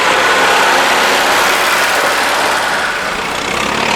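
An old Ford Ferguson tractor engine idles at a steady, loud, close rumble, with a rough low throb that holds unbroken throughout and no voices over it.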